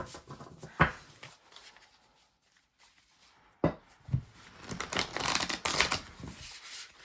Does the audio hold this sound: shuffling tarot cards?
yes